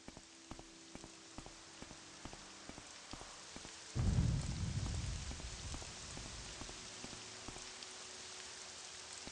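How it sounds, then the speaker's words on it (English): Steady rain falls in the Morrowind video game, a continuous patter of drops with occasional clicks, then a deep rolling rumble of thunder swells and slowly fades under the ongoing downpour. "Oh, more rain?"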